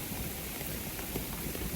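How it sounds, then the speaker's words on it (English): Steady rain patters on a hiker's gear beneath a large pine tree, a dense, even hiss of drops close by with no voices. "it's probably going to be raining like this through the night"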